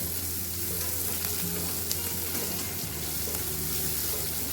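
Gangavayalaku greens frying in a pan with onions, a steady close sizzle and crackle running throughout without pause, no voices over it.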